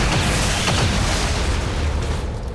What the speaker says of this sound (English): So, this is what the spectral explosion looks like without the help of a grenade.